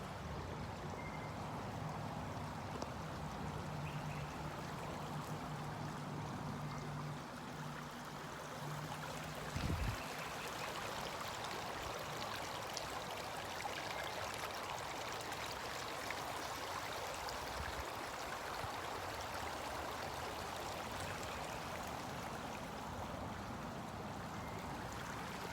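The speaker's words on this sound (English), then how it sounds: "Nothing like the sound of a flowing stream to balance the emotions in the heart" A flowing stream in Northern Arizona, its steady broadband rush of water continuous and fairly close throughout, with no voices.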